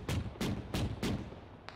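Incoming missile fire in a military video game, four heavy booming impacts in quick even succession followed by a fainter fifth crack, somewhat distant and muffled.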